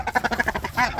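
Ducks on a small farm quacking in a rapid run of repeated nasal calls, close and fairly loud, ending in a longer sustained call.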